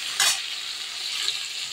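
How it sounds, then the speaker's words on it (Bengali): Tomatoes added to oil after onions sizzle steadily in a pan, with a brief sharp stir or scrape near the start and a soft continuous frying hiss after it. "পেঁয়াজগুলো ভাজা হলে ওই তেলেই আমি একটু টমেটোগুলো দিয়ে দিয়েছি।"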